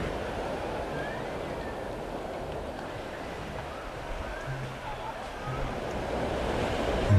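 Ocean surf rolls steadily onto the beach at Chacala, Nayarit, a continuous wash of breaking waves with light wind buffeting, fairly soft and distant.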